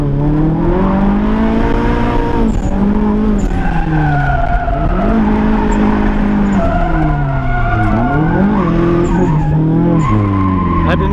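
A drift car on a parade lap around a skid pad, its engine droning and rising and falling with throttle while the tires squeal in long sustained skids, loud and close throughout.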